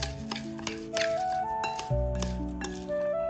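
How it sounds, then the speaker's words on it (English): A spoon stirs rice bait mixed with sauce and high-proof alcohol in a bowl, giving a run of light ticks and clinks over a steady humming tonal background. "Stir it well with a spoon to coat each grain of rice with the sauce."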